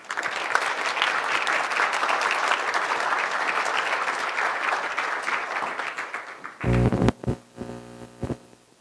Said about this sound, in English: Please give a round of applause again to our two presidents.